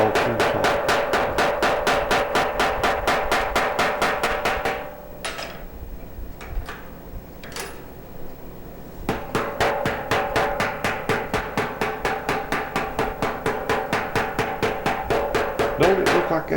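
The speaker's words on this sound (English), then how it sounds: "Don't it look like that hammer's sliding sideways every time I hit?" A hammer pounds a warm, annealed metal pot in steady rapid blows, loud and close; the rhythm halts midway for a few scattered knocks, then resumes at the same fast, even pace.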